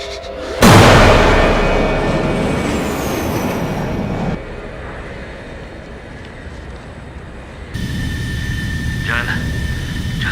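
A loud airplane engine roars up suddenly, then drops to a steady drone, then swells again toward the end, continuous throughout with no voices.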